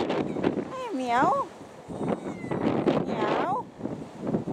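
A cat meows twice at the Garleton Castle ruin, clear rising-and-falling cries close by, with a person speaking softly around them and some wind noise.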